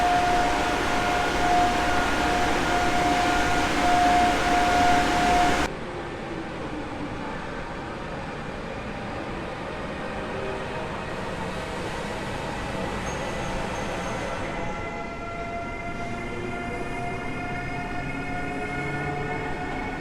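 A loud dual-system electric locomotive at Warszawa Zachodnia station running with a steady mechanical drone and tonal whine, a brief high tone early on, continuous throughout.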